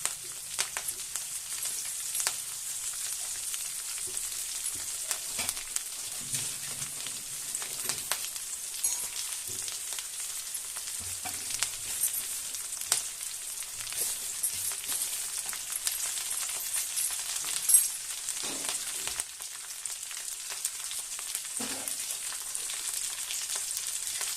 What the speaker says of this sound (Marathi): नंतर याच्यामध्ये ही आपण बारीक चिरलेली हरभऱ्याची भाजी टाकूया.